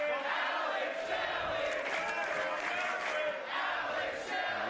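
A pro wrestling crowd at a West Coast Pro tag match roars steadily for Alex Shelley as he enters, a dense wall of cheering and shouting that holds at full level throughout.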